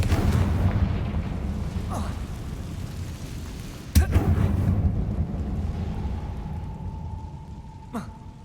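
A Confringo fire spell explosion in Hogwarts Legacy, a sharp single blast with rumbling aftermath amid ongoing game ambience, a voice speaking briefly.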